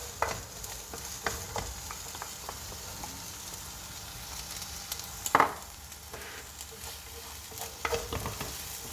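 Onions frying in a little oil in a pan give a soft, steady sizzle with occasional stirring clicks and one brief louder clatter, faint and close, with no talking.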